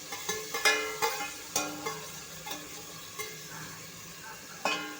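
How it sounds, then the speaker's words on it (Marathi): Seasonal vegetables being sautéed for masala pasta, with a spoon stirring and knocking against the pan in faint, irregular scrapes and clinks over a soft, quiet sizzle. "भाज्या आपण 2-3 मिनटं फक्त परतायच्या आहेत"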